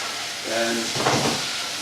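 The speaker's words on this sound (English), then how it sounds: "Stir frying this around." Steady sizzling hiss of vegetables, including celery, stir-frying in a hot pan, with a brief louder burst as the contents are stirred.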